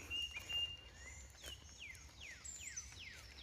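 Birds call on a wet, rainy morning outdoors: a faint series of short descending whistled chirps repeats from a distance over a low rumbling background, with no talking.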